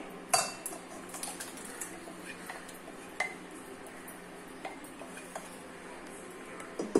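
A freshly boiled snake gourd kootu is moved into another vessel with scattered metallic clinks and scrapes of a ladle against pots, sharp knocks at the start and end, over a quiet kitchen background.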